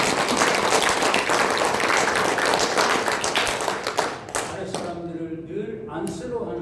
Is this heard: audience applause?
yes